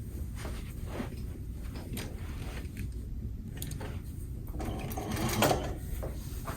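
A sewing machine runs in rapid bursts stitching a box cushion slipcover, its quick mechanical chatter stopping and restarting with brief pauses and fabric rustling between runs, close and fairly quiet.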